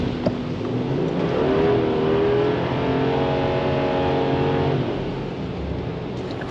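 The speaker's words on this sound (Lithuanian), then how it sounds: "Arė dirba traktoriukas, tyliai burzgia Fendo motoriukas." A Fendt tractor engine runs steadily at close range during autumn field work, a loud, even drone with a rising and falling tonal whine as the revs shift.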